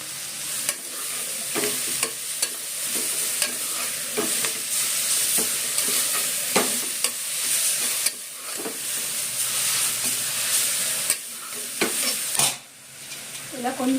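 Spinach greens sauté with salt in a hot pan for spinach rice, giving a continuous crackling sizzle under frequent rhythmic scrapes and knocks of a spoon stirring the leaves.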